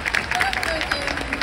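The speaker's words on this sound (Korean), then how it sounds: "큰 박수 부탁드립니다" A crowd applauds during an open talk for a film at the Busan International Film Festival's cinema center, a busy, fairly loud patter of clapping with a few brief tonal sounds mixed in.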